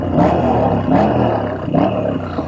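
A deep, throaty Moto Guzzi V7 motorcycle engine revs in repeated surges, loud and close, with a rumbling low end between the bursts.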